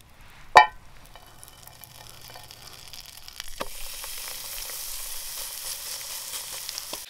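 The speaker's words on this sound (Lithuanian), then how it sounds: "Kol kepam mėsytę," A meat patty frying in a pan outdoors at a forest campsite: a sharp knock near the start, another clack midway, then a steadily building sizzle that holds to the end, with no talk.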